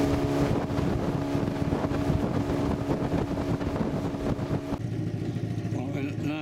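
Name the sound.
boat speeding across Jozini Dam lake in wind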